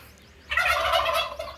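A turkey gobbles once in a loud, rapid warbling burst lasting about a second, close by over a quiet background.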